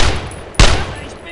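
Gunfire in the World War II shooter Brothers In Arms: Road To Hill 30, a loud close burst of shots with a sharp report mid-clip over a continuous din of combat.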